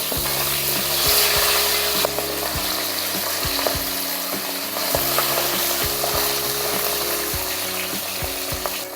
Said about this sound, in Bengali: এখন আমি মাছগুলো তেলে দিয়ে দিলাম।